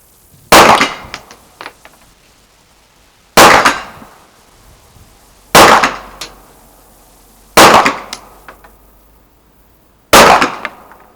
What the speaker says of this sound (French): dernier petit test, tire à 50 mètres